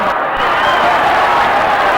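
Boxing crowd at the 1973 Muhammad Ali versus Ken Norton fight in San Diego cheering and urging the fighters on, a loud, steady roar of many voices filling the arena.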